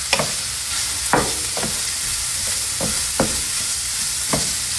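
Sausage sizzles in a hot pan while a spatula spoon tosses it around, giving a steady loud frying hiss broken by several scraping strokes and clacks of the utensil against the pan.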